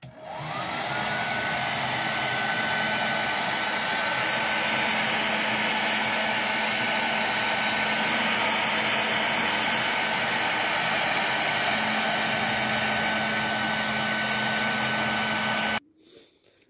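Hot air blowing onto drying boots to heat them before the soles are worked on, a loud, steady, close whooshing hum that runs without a break and cuts off sharply near the end.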